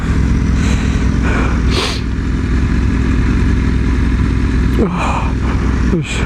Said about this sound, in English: I hear a loud engine.